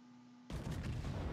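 Battleship main guns fire in a World of Warships naval battle, a sudden heavy boom that breaks a quiet hum and rolls into a loud, rumbling blast lasting the rest of the moment.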